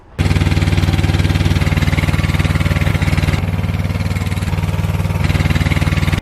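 A 2009 ZD 326 ride-on mower with a 25-horsepower engine and 60-inch deck runs loudly up close, its rapid steady engine pulse holding constant throughout before cutting off abruptly, with no talking.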